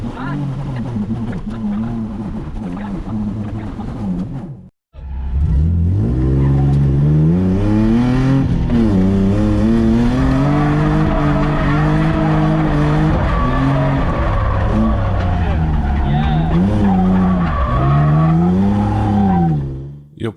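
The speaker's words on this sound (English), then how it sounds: "this is my first clean drift run of the day" A Nissan 350Z drifts on a clean run, its engine revving hard in long rising and falling sweeps while tires squeal and skid continuously and loudly throughout, after a brief pause near the start.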